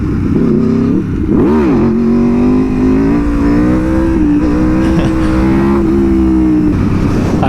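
Aprilia Tuono motorcycle revving hard in first gear while attempting a slow wheelie, its engine note loud and close, rising and falling with a sharp throttle blip early on and then a sustained, steady roar.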